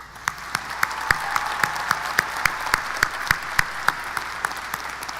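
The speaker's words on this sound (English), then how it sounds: "can we take another moment, another round of applause to thank our fantastic administrators and our dear teachers" Applause at a 2021 high school commencement ceremony: a fairly thin crowd clapping steadily, with a few loud individual claps standing out in a regular rhythm over the continuous patter.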